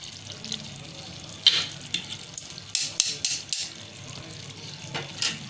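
Green chillies dropped into a sizzling keema karahi, a steady frying hiss with scattered sharp crackles and stirring clatter, close and moderately loud.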